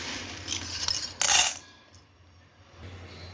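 Dry chana dal and lentils tip into a kadai, a loud rattling clatter of hard grains on metal that swells and stops, then a quiet room hum.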